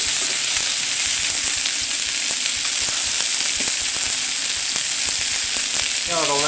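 Chicken drumsticks sear in a hot pan, a loud continuous sizzle dotted with sharp pops and spits, close and steady throughout, ending with a brief scrape as a piece is turned.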